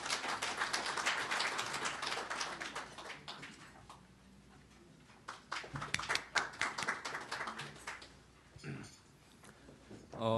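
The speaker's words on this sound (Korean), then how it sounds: "큰 박수로 맞아주시기 바랍니다" Applause from a breakfast forum audience welcoming a guest speaker, scattered clapping that swells, thins out and picks up again, with some talk mixed in.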